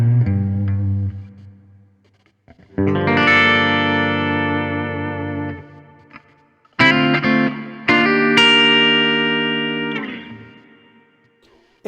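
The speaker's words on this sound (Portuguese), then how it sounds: "Esse é o Super Reverb, Fender Super Reverb, que é um amplificador icônico." Electric guitar played through a Fender Super Reverb amp model on a ToneX pedal, ringing chords and single notes with reverb, loud and close, in three phrases separated by short pauses.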